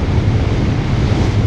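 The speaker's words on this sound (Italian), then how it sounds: "un sacco di vento c'era, oggi era difficile andare, era molto difficile" Steady, heavy wind roar on a motorcycle ride buffets the microphone, a continuous low rumble and rush of air with no speech, loud and unbroken throughout.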